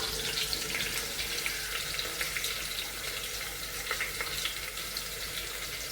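Two medium onions, sliced, frying in a pan as the base for a potato stew, a soft, steady sizzle with faint crackles, quiet and continuous with no voices.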